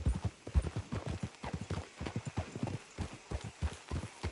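Horses' hooves clip-clop steadily in Red Dead Redemption 2, a brisk, close, uneven patter of many hoofbeats with an occasional faint snort, continuing without pause.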